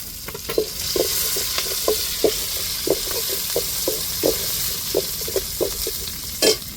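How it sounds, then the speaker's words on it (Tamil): Garlic and curry leaves frying in hot oil, a steady sizzle broken by regular stirring scrapes and light knocks of a spoon against the pan, close and fairly loud, with no talking. "இப்போ பூண்டு சேர்த்துக்கிடுவோம் அதுக்கடுத்து கருவேப்பிலை சேர்த்துக்கிடுவோம்"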